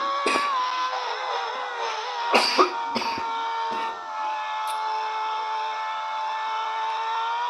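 Several harsh coughs burst out close by, clustered at the start and middle, over a steady background hum.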